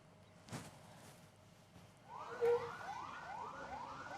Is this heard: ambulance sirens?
yes